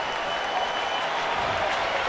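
A sold-out baseball stadium crowd applauds in a steady, dense patter of many hands that holds at an even level throughout, with a faint murmur of voices underneath.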